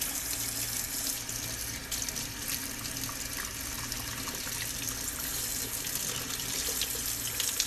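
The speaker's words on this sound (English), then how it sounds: "So I'm going to wash that." Tap water runs steadily into a sink while something is washed, a continuous close splashing hiss with no pauses.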